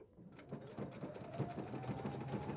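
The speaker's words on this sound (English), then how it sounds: "It's going to come along and sew in and come back and where I just sewed." A home sewing machine runs steadily up close, its rapid needle chatter humming on without pause while stitching a snowflake table runner, fairly quiet and with no talking.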